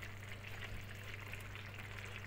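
Sucuk sausage frying in a sac pan gives a steady, close sizzle with a constant crackling hiss, alone with no talk, over a low burner hum.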